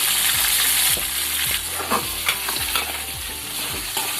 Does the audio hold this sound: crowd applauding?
no